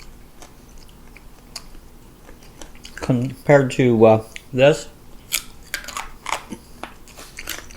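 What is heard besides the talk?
biting and chewing crunchy homemade pork cracklins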